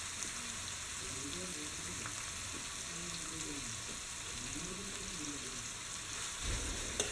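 Chopped onions and shallots sautéing in a pan for Kerala-style pepper chicken roast, a steady soft sizzle and crackle throughout, close and even, with a slight swell near the end.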